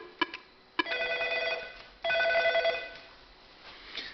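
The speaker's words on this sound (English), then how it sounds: "someone presses the intercom key on the phone set and gets intercom dial tone and calls another phone" Nortel Norstar phone set ringing for an intercom call, a couple of short chirps followed by two longer trilling electronic rings, close and fairly loud with no talk.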